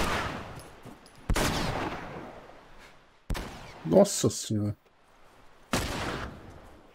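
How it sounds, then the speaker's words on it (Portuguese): Gunfire and shotgun blasts from The Last of Us ring out as four sharp, loud reports with decaying tails, spaced a second or two apart, while a man exclaims briefly between shots. "O cara me acertou com um tiro de 12, maluco."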